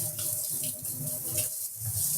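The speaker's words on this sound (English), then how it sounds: "I'm going to put the water on warm" Warm water running from a kitchen sink faucet with a spray setting, a steady splashing hiss that holds for a couple of seconds, close and fairly loud with no talking.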